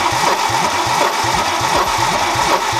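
Peugeot 309 GTI engine cranking on the starter motor, a steady rapid chugging rhythm with loud, continuous whirring throughout, close up and with no speech.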